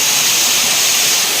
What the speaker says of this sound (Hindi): और गुफा के बाहर ये झरना, ये जो झरना गिर रहा है